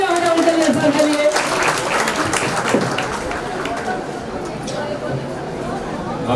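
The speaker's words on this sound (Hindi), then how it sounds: "एक बार जोरदार तालियां हो जाए उनके लिए, सर के लिए।" An audience applauds actor Aditya Pancholi at the inauguration of a school's digital classrooms in Mumbai. A voice is heard briefly at the start, then a steady wash of clapping and crowd murmur carries on to the end.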